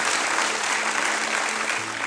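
A studio audience claps loudly and steadily in applause for a singer on a Malayalam television music show, a dense, continuous burst with no voices.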